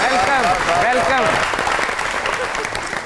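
A studio audience on a comedy talk show claps loudly to welcome a guest, a dense burst of applause that fades slightly while a voice speaks over it.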